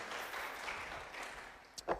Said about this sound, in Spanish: Un aplauso para la niña que es fiel, trayéndole a su papá el delicioso té de la predicación.